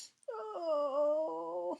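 A voice imitates a labor breath, drawing in through the nose and letting out a long, steady, voiced moan through the mouth. The sound is close, soft and sustained, and heard alone.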